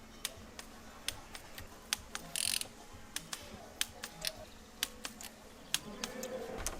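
A torque wrench tightening a bolt to 8 Nm on a 1.9 TDI engine, a series of sharp ratchet clicks spaced irregularly, with a brief hiss midway and quiet background.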